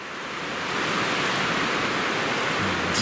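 Turbulent mountain river Malaya Laba in the Western Caucasus, swollen with spring snowmelt, roars as a steady, loud, broadband rush of whitewater that continues unbroken with no voices present.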